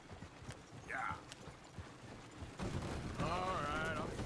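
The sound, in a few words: horses running off, hooves clopping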